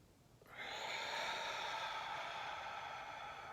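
A single long, deep breath drawn in steadily during a meditation breathing exercise, starting after a half-second of near silence and holding a soft, airy rush to the end, close and alone with no talk.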